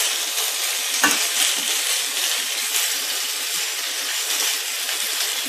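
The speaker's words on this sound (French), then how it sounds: "Je vais laisser fondre les tomates quelques minutes." Chopped tomatoes sizzling steadily in a hot pan as the base of a tamarind sauce, with a constant close frying hiss and one brief utensil clink near the start.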